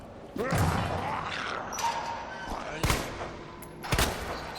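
Gunshots in the video game Resident Evil 2, several sharp, loud shots spaced a second or so apart over a noisy background rumble, with someone talking between them.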